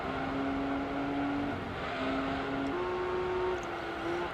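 A Nissan 400R engine in Gran Turismo 3 drones steadily at high revs as the car drives. Its pitch holds level, then steps up twice in quick shifts, with no talk over it.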